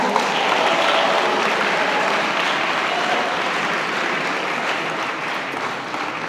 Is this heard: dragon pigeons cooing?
no